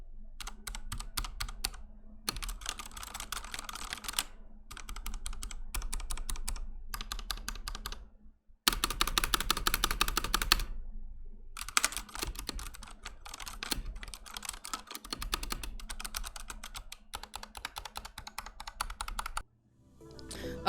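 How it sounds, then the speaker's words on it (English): Fast typing on a computer keyboard with linear switches, a dense, close patter of keystrokes in several long runs separated by brief pauses. "I love typing on this thing"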